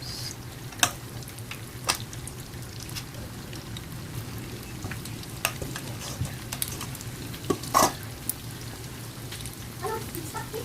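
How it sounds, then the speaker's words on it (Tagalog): Flour-coated chicken for buffalo wings fries steadily in hot oil, a continuous crackling sizzle with scattered sharp pops throughout, close and moderately quiet. "gonna fry the chicken"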